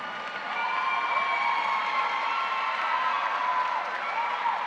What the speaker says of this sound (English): Please join me in applauding Tatiana Singleton